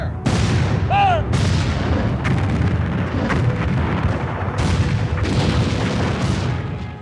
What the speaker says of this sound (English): And it's fun to hear the cannons go off.